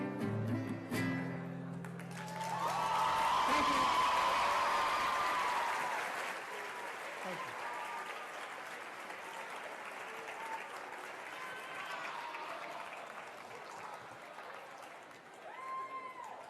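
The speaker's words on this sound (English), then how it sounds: "So let's give him one more round of applause." Audience applause at a school event, a sustained round of clapping that swells, peaks, and slowly tapers, with a few faint voices in the crowd.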